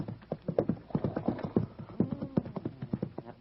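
Horse hooves clip-clop steadily as a horse pulls a cart in an old western, a brisk, close, rhythmic clatter of many hoofbeats on its own, heard through a muffled, narrow-band recording.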